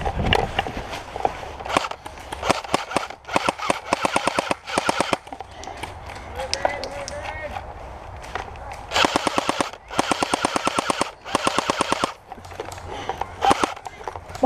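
Airsoft guns fire in rapid full-auto bursts during a D-Day themed skirmish outdoors, loud repeated volleys separated by short pauses, with some fainter rustling between.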